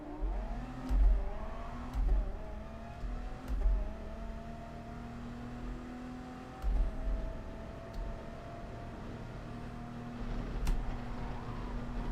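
A Peugeot race car in Gran Turismo Sport at Spa-Francorchamps approaches with a rising engine whine, revving through gear changes in repeated swells while another engine drones steadily beneath, with no talking.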